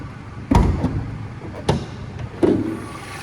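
Mercedes GLC 250 AMG Line Premium petrol car door, with sharp knocks and thuds at about half a second, just under two seconds and near two and a half seconds, close by over faint background noise and no talk.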